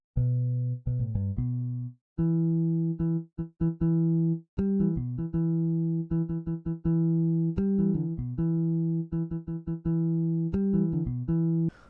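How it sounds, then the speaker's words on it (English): Sampled electric bass artificial harmonics from HALion software ring out alone, chiming bell-like notes plucked one by one with a few quick runs and sustained tones. "that's the artificial harmonics"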